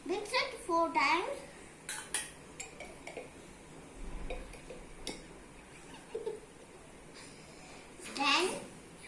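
Children mixing fruit salad in a bowl, light clinks and scrapes of a spoon against the dish, intermittent and quiet, with kids talking over it.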